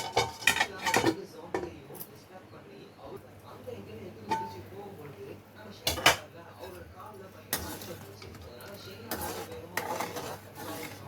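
A lid set onto a cooking pot in a home kitchen while making kovil puliyotharai, with a few sharp metallic clinks and clatters amid soft background noise and a voice speaking.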